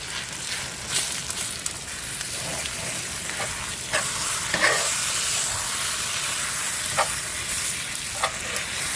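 Barbacoa meat crisps in a cast iron pan with a steady, close sizzle and hiss, broken by occasional stirring scrapes and pops, with no voices.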